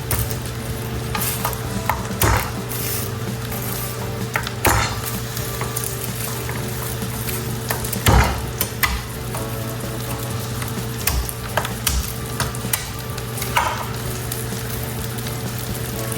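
Mushrooms sizzle steadily in a hot pan as they brown for a vegan creamy mushroom pie, with scraping spatula strokes and occasional clicks of utensil against the pan over a constant frying hiss.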